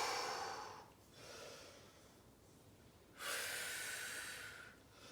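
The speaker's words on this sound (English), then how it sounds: "As I rock, I exhale." Two long, breathy exhales drawn out through the nose and mouth while rocking forward into a kneeling stretch for knee pain, close and soft, with no talking.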